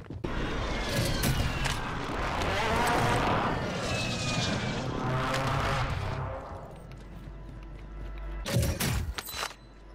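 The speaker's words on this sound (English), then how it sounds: "Helicopter, I don't know what they're trying to do." A helicopter passes overhead in a video game, its engine a loud, steady roar that swells and fades over most of the stretch before a few sharp, loud bursts near the end.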